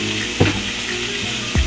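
Spice paste sizzles in oil in a pan, a steady close frying hiss broken by two brief stirring scrapes, with no talking.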